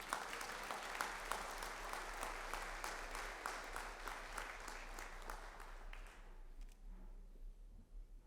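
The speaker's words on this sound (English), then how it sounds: "a round of applause to our honor graduates" Applause from a banquet audience at Weslaco East High School's honors banquet for honor graduates, with distinct individual claps in a moderately sized room, fading out over the last two seconds into quiet.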